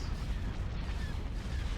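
Starships pour fire onto gun emplacements in the Star Wars game Thrawn's Revenge, a steady low rumble of distant blasts and booms rolling without pause and with no voices.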